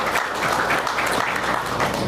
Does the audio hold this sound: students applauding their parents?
yes